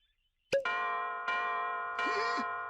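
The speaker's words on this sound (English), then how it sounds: "Bells." Clear, ringing bell tones strike three times in succession, each bright chime sustaining and overlapping the next, close and loud after a moment of silence.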